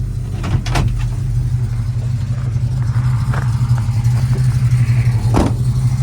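A deep, steady V8 engine rumble idles close by on a 1973 Dodge W200 4x4 pickup with a 360 V8, a constant low throb with a couple of brief clunks over it.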